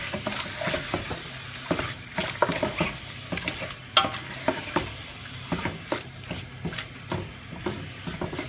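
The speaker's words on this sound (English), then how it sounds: "So now just stir that all together so it combines." Browning meat sizzles in a pot with ground cinnamon while a spoon stirs it, giving repeated scraping strokes over a steady close-up frying crackle.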